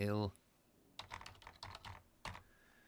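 Quiet clicking of computer keys in short irregular bursts, close by, after a brief tone at the start.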